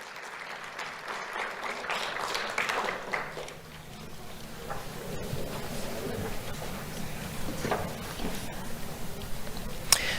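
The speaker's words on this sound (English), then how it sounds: "Let's have a round of applause for Dylan Lopez Soto." Audience at an awards ceremony clapping for a fifth-grade honoree, a sustained wash of applause with some rumbling noise underneath.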